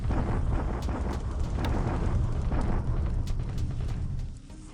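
Naval bombardment in a war strategy video game set in December 1941 at Kuching: a continuous, dense rumble of explosions with scattered sharper blasts, loud throughout before fading slightly at the end.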